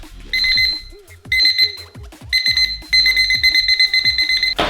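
Loud electronic alarm clock beeping in bursts, starting with separated shrill pulses and then ringing longer and more continuously as it grows more insistent.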